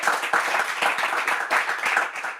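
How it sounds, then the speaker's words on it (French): Audience applause at a Bible quiz final, a steady patter of many hands clapping in a room, moderately loud with no talking over it. "On l'applaudit, s'il vous plaît."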